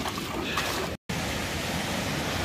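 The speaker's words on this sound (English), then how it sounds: "right here the water's just coming out of the side of the mountain" Water gushing out of the side of a limestone mountain in a canyon, a loud, dense, continuous rushing roar heard close up, broken only by a brief cut.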